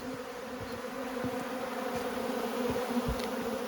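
Steady buzzing of many honeybees, a constant drone with occasional nearer bees passing close.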